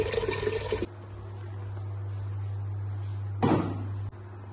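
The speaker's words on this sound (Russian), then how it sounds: "Берем кастрюлю, набираем холодную воду, литра 3." Cold tap water running into a cooking pot while making kimchi-style pickled cabbage, a steady close flow with a brief clatter of the pot partway through, then the water cuts off.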